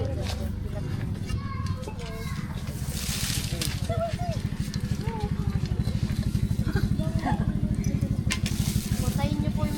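A motorcycle engine putters in a fast, even low rhythm that grows steadier and louder toward the end, while children and adults chatter over it outdoors.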